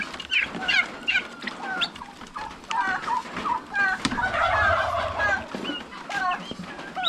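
A flock of turkeys and their young poults on a farm give repeated bursts of gobbling and chirping calls, fairly close and overlapping, with a busier stretch of calling midway and no talking.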